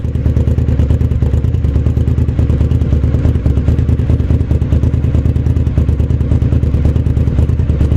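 A Suzuki SV1000 motorcycle engine, just started, idles steadily and loudly up close, a constant low rumbling throb with mechanical clatter and no revving.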